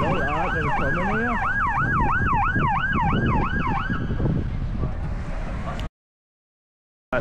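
A police car siren wails loudly and close in Blackpool, its rising and falling tone cycling steadily for about four seconds over road traffic noise before cutting out into silence.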